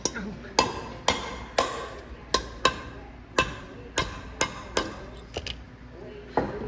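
Hammer tapping a socket to drive an injector cup tool out of a cylinder head, about a dozen sharp metallic taps at an uneven pace, close up, with faint background noise.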